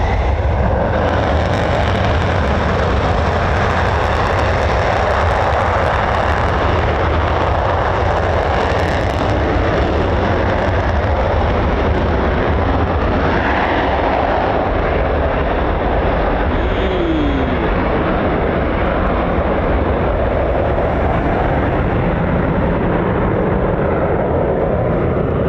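An F-15 or F-35 fighter jet running on afterburner at a US Air Force fighter wing base, a loud, sustained roar that swells and rumbles across the whole stretch without break.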